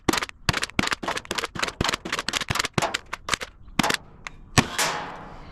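Adventure Force toy foam dart blaster fires a rapid series of about twenty sharp snapping shots in quick, uneven succession, close and loud, ending in a longer whooshing burst.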